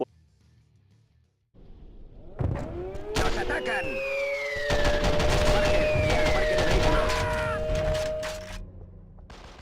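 Call of Duty 4 on the Nintendo DS as terrorists attack an encampment in a fake Middle Eastern country: loud, sustained rapid gunfire and explosions under wailing siren tones, after a brief quiet start.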